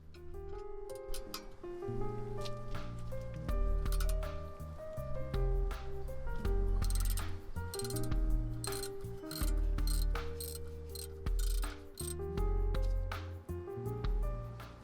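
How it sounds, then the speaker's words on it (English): Brake caliper bolts come off a Jaguar XJ6 with an H7 hex socket on a ratchet, making repeated ratcheting clicks and metallic turning sounds in bursts, close and fairly clear, with no talk. "Use an H7 hex socket to remove the caliper bolts."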